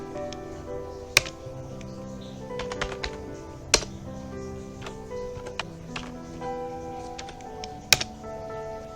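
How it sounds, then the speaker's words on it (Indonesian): Commands being typed on a computer keyboard for a Linux network setup, with a steady patter of close key taps, a few sharper louder strokes standing out like a firm Enter press, and a faint background hum throughout. "Kita coba ketikkan perintah sudo -r npost 3, kemudian enter."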